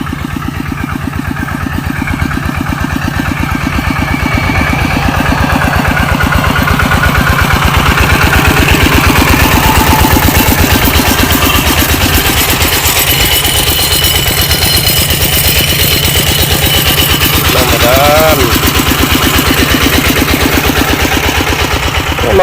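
Engine-driven pump drawing groundwater in a rice-farming field, its motor droning steadily and loudly throughout with a constant rhythmic chug, no talking over it.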